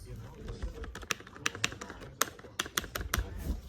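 Fingers type on a cheap Lenovo computer keyboard, producing a steady run of close, crisp key clicks at an irregular rhythm with faint background noise.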